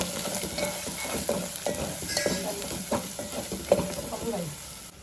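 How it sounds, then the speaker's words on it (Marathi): A spice mix of onion masala, chili masala, black masala and mutton masala fries in a pan for a goat head curry. It gives a close, busy sizzle broken by repeated stirring scrapes and clinks, with no talking. "मस्तपैकी मसाला फ्राय झाला आहे"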